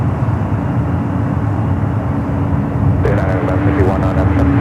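A United Airlines Boeing 777-200ER arriving at San Francisco airport, a loud continuous jet engine roar with low rumble throughout, joined near the end by a brief tonal radio or voice layer.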